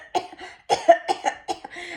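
Harsh coughing up close, about six loud bursts in quick succession with brief gaps between them and no other sound.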